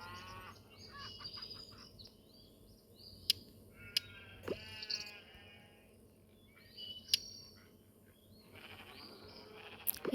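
Sheep in the farming game Hay Day give a few quavering bleats, faint and a little distant, mixed with light bird chirps and occasional soft clicks over quiet game ambience.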